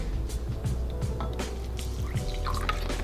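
Vinegar poured into a dipping sauce with sugar and chili flakes in a home kitchen, soft dripping and splashing liquid close by, with faint clinks over a low steady background.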